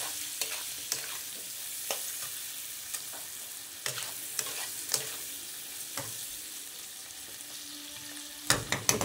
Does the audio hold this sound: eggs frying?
yes